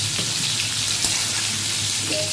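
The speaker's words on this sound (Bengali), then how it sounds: "আমার চিংড়ি মাছটা হালকা হালকা ভেজে নিলাম" Prawns frying lightly in a little oil in a home kitchen, a steady soft sizzle with faint watery crackle running throughout, close and continuous.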